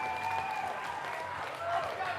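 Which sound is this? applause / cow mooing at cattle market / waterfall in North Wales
applause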